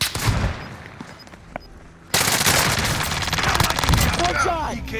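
Call of Duty gunfire: a few scattered shots at first, then a sudden loud burst of sustained automatic fire that keeps hammering, with sharp cracks on top.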